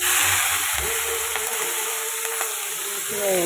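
Tomato, potato and cabbage sizzling together in a hot pan, a close, steady crackling hiss with a few stirring scrapes and a brief tonal squeak near the end.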